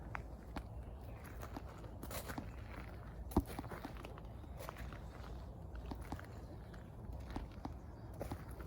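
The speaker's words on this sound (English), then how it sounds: "I love the sound of my own footsteps" Steady footsteps crunching on a gravel garden path, close by and fairly quiet, with a regular walking rhythm and no talking.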